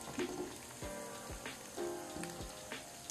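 Pieces of boneless chicken 65 deep-fry in hot oil, giving a steady close crackle and sizzle with small bubbling pops throughout and no voices.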